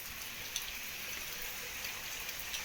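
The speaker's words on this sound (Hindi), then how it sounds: "खूब बारिश आई है, खूब तेज़ बारिश।" Heavy rain pours down steadily with a dense, continuous hiss and scattered drops, faint and unbroken, with no voices.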